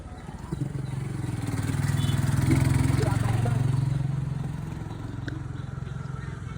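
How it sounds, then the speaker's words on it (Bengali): Motorbikes and other vehicles climb a steep road beside Kaptai Lake in Rangamati, an engine drone swelling as one draws near and then fading, with a person talking over it. "দেখছেন বাইক বাইক সহ গাড়ি নিচে থেকে উঠতে ওদের অনেক কষ্ট হয়ে যাচ্ছে।"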